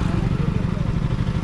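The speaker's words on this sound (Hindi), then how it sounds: "ମୁଁ ଆଉ ବବୁଲୁ ଦୁଇ ଜଣ ଆସୁଛୁ, KTM ଆସୁଛି" A KTM motorcycle rides off-road, its dense, close engine rumble pulsing steadily, with a voice talking over it.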